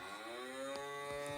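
A cow mooing sound effect, heard as a steady, loud, drawn-out bellow with a strong harmonic tone that fills the whole short stretch without pause.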